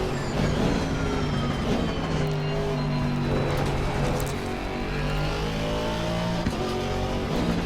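Alpine race car engine in an ACC racing game at the Nurburgring, a loud continuous high-revving roar with rising gear sweeps and other cars close by, no talk.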